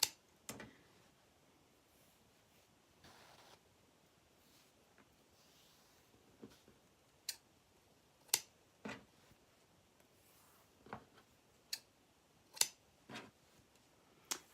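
Scissors cut wool for a unicorn tail, producing sharp, isolated snips spaced irregularly across a quiet background, close and crisp with no talk.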